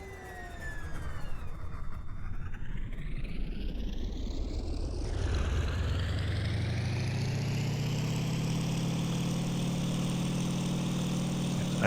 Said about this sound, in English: I'm going to cool down my engine